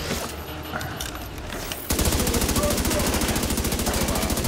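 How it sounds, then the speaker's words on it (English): Sustained minigun fire in the video game Tom Clancy's The Division 2, a loud, rapid, unbroken rattle that starts abruptly after a stretch of mixed battle noise and keeps hammering at a steady fast rhythm. "there's guy on a minigun"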